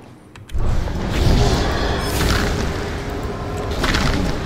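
A rock tornado spell cast in the video game Spellbreak, bursting in with a sudden deep boom and then a sustained rumbling, grinding roar that swells and lingers.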